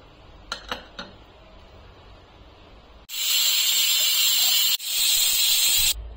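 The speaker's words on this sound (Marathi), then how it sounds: "आता इथे कुकरला झाकण लावून आपण 2 ते 3 शिट्टीमध्ये शिजून घेणार आहोत।" A pressure cooker on the stove vents steam while cooking a drumstick and beetroot soup, a loud steady hiss that bursts on abruptly after quiet kitchen clatter, cuts out briefly, then resumes before stopping.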